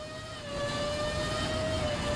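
A helicopter in a Formula racing video game hums over the track with a steady tonal whine that swells slightly louder partway through and holds.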